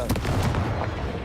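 Confringo blast spell from Hogwarts Legacy, a dense booming explosion with broadband rumble and crackle filling the whole clip, loud and close, mixed with game sounds.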